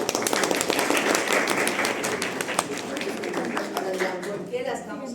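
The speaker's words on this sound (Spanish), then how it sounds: "A ver, por favor, un aplauso a Moreno Patiño." Applause for a student in a university class in Spanish, a steady burst of many hands clapping that fills the room for about five seconds, thinning slightly toward the end.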